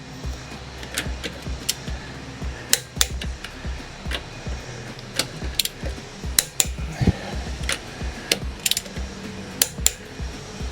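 Torque wrench tightening wheel lug nuts in a cross star pattern on a Mustang during a wheel spacer install, with a series of sharp metallic clicks and clanks over a steady low background.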